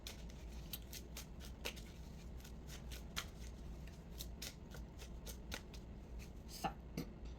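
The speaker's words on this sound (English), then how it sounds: "Rarely, I rarely shuffle on camera because my setup don't usually permit" A deck of playing cards is shuffled close up during a tarot reading, a steady run of quick crisp riffles and slaps with sharper snaps at intervals, alone without speech.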